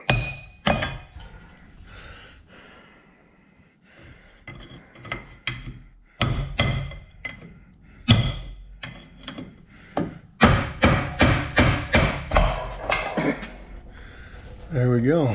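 Chisel or pry bar worked against a carrier bearing, giving repeated sharp metallic strikes and clinks in uneven bursts, with quieter gaps and some low handling noise between them.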